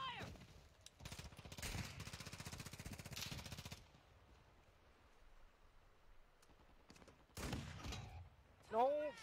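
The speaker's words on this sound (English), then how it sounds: "getting shot at again" Rapid bursts of automatic gunfire in a video game, a long sustained volley followed by a pause and a shorter burst, loud and close, with faint game sounds between.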